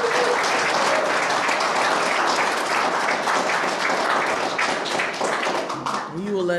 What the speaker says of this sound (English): So please give a big round of applause for Pat Washington.